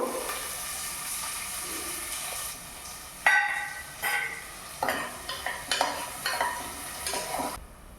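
Onions fry in a pan on a home stove with a steady, close hiss and sizzle, broken by several stirring scrapes and clacks toward the end.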